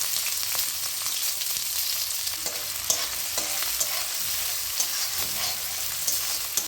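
Chopped onion, chili and garlic hit hot oil for a Bengali aloo paratha meal, giving a steady, close, hissing sizzle with a few light stirring clicks throughout and no talking.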